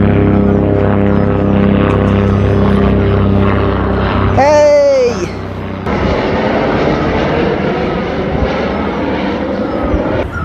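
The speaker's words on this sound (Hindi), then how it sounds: "देखो भाई, अभी एक हेलीकॉप्टर जा रहा है ठीक ऊपर मदमेश्वर धाम की साइड।" A helicopter flies low over a house in a mountain village toward the Madmaheshwar side, making a continuous loud droning engine roar with a brief rising whine; people talk over the noise.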